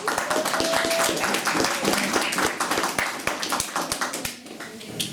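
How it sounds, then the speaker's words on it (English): An audience gives a round of applause, with many hands clapping briskly and loudly at first, then thinning and fading toward the end. "let's give them a round of applause."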